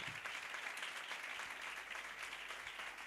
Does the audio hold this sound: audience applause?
yes